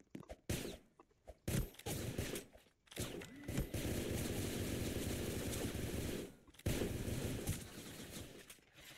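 Shotgun fire in a video game comes in loud, heavy bursts, first a few separate blasts, then a long sustained stretch of rapid firing that breaks off and starts again.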